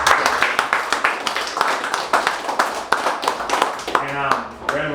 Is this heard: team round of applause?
yes